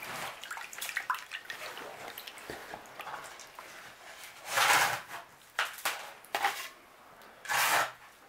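Water sloshing back and forth in a shaker gold pan concentrator with a silicone mat, in uneven close splashy surges with a couple of louder swishes near the end.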